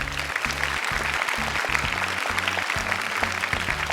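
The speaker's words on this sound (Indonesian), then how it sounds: "boleh tepuk tangan" Studio audience applause on an Indonesian children's Quran-memorization TV competition, a steady dense wash of clapping lasting the whole stretch over a thumping low music beat.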